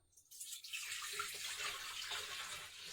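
Whey pours back into a Thermomix bowl while making halloumi cheese, a steady close splashing rush of liquid that starts abruptly and keeps going without a break.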